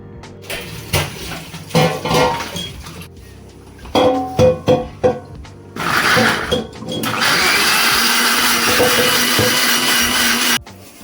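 A kitchen blender grinds tomatoes into paste in short loud pulses that rise into a sustained, steady whirring run before cutting off, heard close with no voices.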